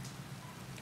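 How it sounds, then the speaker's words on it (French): Soft, constant hiss of rain falling in the MXGP 2020 motocross video game, a faint, even wash with no breaks and no voices over it. "Par contre, on entend la pluie."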